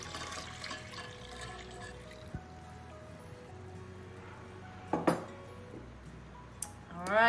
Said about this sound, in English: we're gonna add 6 cups, actually 5 cups of milk to this.